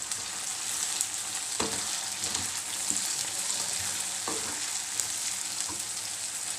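Onions with red chilli, turmeric, salt and tomato frying in a pan for a Gujarati-style onion curry, a steady close sizzle with a few soft stirring clicks and scrapes.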